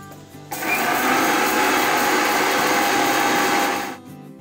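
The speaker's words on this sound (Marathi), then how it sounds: "ह्याच भांड्यामध्ये आपल्याला हे सुके मसाले आहेत तेही वाटून घ्यायचे आहेत मिक्सरच्या भांड्यामध्ये." A mixer grinder whirs up loudly, grinding dry spices for chakli masala in a steady high-pitched roar for about three seconds before spinning down.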